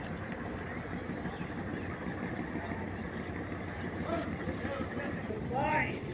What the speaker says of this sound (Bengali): সকালবেলা এই লঞ্চটা কিন্তু ঘাট থেকে এখন ছেড়ে যাচ্ছে।